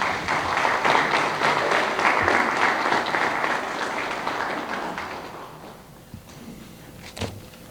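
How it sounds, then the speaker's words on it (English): Audience applause at a formal launch event, a full burst of clapping that thins out after about five seconds, followed by a few scattered claps and a single thud near the end. "I think our DPP deserve another round of applause."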